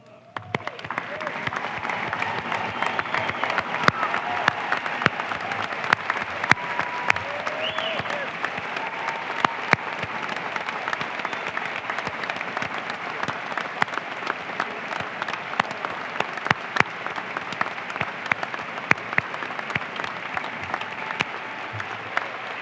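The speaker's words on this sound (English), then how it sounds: "please remain standing as we applaud your service and sacrifice" Sustained applause from a large audience at a cooperative's annual business meeting honoring first responders, a dense, even roar of clapping that holds steady from start to finish with faint crowd murmur beneath.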